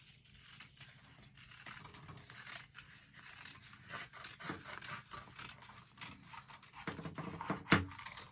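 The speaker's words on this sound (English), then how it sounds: "we're going to cut that with the scissors." Scissors cutting paper for snowflakes and chains, a series of faint close snips and crisp scraping rustles building to one louder cut near the end, with no talk.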